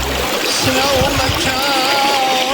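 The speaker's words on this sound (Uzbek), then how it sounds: "Buloq boshi mana shu yerda ekan." A mountain spring runs at its source, a continuous near gurgling flow of water that holds steady throughout, with faint rustling beneath.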